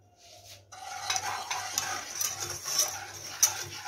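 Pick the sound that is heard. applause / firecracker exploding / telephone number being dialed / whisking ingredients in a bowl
whisking ingredients in a bowl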